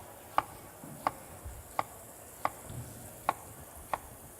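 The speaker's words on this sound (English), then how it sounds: "dice the onion super small, almost to a paste, really." A knife chops an onion on a cutting board, six evenly spaced crisp taps about two-thirds of a second apart, close and alone with no talk.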